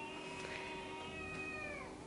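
A domestic cat meows indoors in an apartment, close and clear, with a long drawn-out call whose pitch rises and falls over a couple of seconds and no talking.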